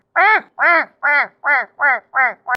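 A person imitates a duck's quack with their voice, giving seven loud, evenly spaced nasal honks in a steady rhythm, close up with no other talk.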